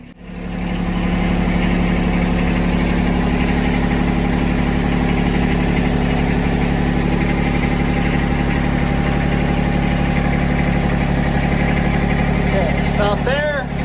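John Deere tractor engine idling close by while mulch work is under way, a loud steady low rumble with constant vibration that runs the whole time, with a brief faint sound near the end.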